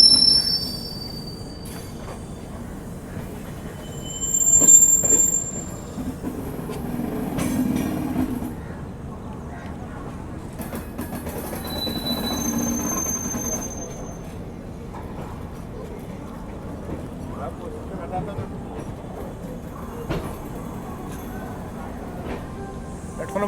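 A Humsafar Express train arrives at Nagpur Junction, wheels squealing and carriages rumbling with metallic screeches and clanks, loud and close, while voices talk intermittently over it.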